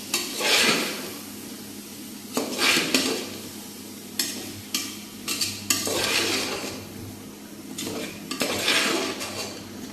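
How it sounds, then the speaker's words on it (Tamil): Vegetable biryani masala with peas stirred in a pan on the stove: repeated scraping and clinking of a spoon against metal in bursts, with a faint sizzle underneath, close and fairly loud, no talking. "சேர்த்துட்டு நல்லா ஒரு வாட்டி மசாலாலாம் மிக்ஸ் ஆகிற மாதிரி நல்லா கிளறி விட்டுக்கலாம்."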